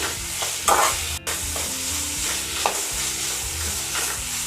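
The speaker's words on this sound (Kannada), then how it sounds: "ಇಲ್ಲಿ ಬರೀ ಎರಡು ಟೊಮೆಟೊ ಮಾತ್ರ ನಾನು ಸೇರಿಸ್ಕೊತಾ ಇದ್ದೀನಿ ಸೊ ಇದನ್ನು ಹಾಗೆ ಒಂಚೂರು ಮೆತ್ತಗಾಗೋವರೆಗೂ ಫ್ರೈ ಮಾಡ್ಕೊಳ್ಳೋಣ" Two tomatoes fry in a pan as the base for a Mangalore-style fish curry, a steady sizzle broken by a few scraping stirs of a spoon, close and continuous with no talking.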